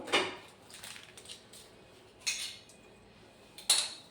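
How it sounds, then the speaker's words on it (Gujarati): Potatoes being peeled in a kitchen, a few scattered scraping and clinking strokes of a peeler against the potato and utensils, faint and intermittent with quiet gaps between them. "તો હવે આપણે બટાકાની છાલ ઉતારી લઈશું."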